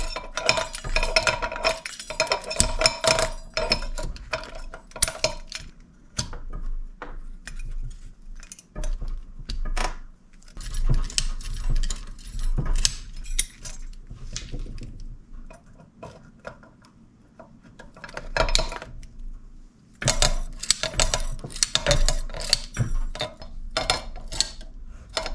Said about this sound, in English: And now we put some safety wire on there.